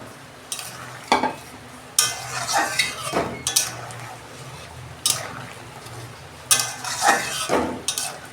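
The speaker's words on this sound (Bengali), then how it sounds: "এই যে আমি এবার বড়াগুলো দিয়ে দিচ্ছি।" Besan fritters going into a pot of boiling potato curry, heard as repeated stirring scrapes and clinks of a utensil against the pot, arriving in short bursts over a steady low bubbling.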